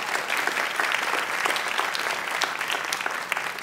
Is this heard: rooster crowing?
no